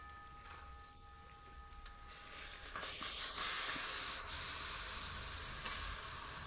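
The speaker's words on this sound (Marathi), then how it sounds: "तर आता आपण कढईमध्ये भोपळा आणि गूळ टाकून घेऊया" Grated pumpkin and jaggery hit a hot kadhai in a village kitchen, starting a bright, steady hiss that swells partway through and holds loud and close to the end.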